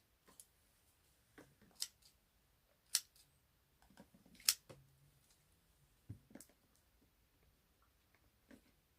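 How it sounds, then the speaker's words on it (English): Scissors trimming Walmart basket shred on a small gift basket, a handful of sharp, quiet snips spaced irregularly against near silence. "I'm just giving it just a little bit of a trim so all the shred is not hanging off of it"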